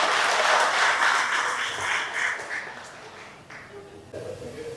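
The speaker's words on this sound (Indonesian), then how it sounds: "Tepuk tangan untuk Zainal Petir." Audience applause at an inauguration ceremony for the Banyumas regency PWI journalists' association board: a broad wash of clapping that starts full, thins steadily over a few seconds and fades into quieter room noise.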